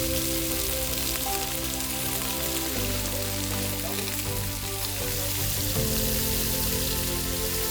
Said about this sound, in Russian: Хорошенько обжариваем и не забываем переворачивать.